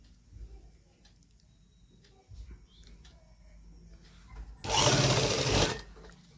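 A sewing machine stitches the back pocket of a pair of men's trousers; after quiet handling noises, one loud, dense burst of rapid stitching runs for about a second near the end.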